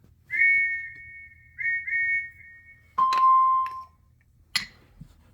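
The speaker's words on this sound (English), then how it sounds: "that night Lily heard the sound of a train whistle outside her window." Train whistle sound effect in a children's wooden-railway story: a few clear, steady whistle blasts of varying length sound alone against quiet, followed by a brief sharp clank at the end.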